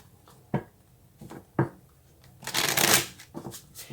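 Tarot cards being shuffled close up: two short sharp riffles, then a longer, louder riffling burst and a few soft card taps, in a quiet room.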